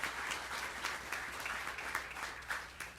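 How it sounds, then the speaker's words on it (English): Audience applause at a groundbreaking ceremony for a Cyrus One data center in Aurora, Illinois: steady, moderately distant clapping from a crowd that rises and falls slightly and runs without pause for three seconds, with no speech over it. "That deserves a round of applause."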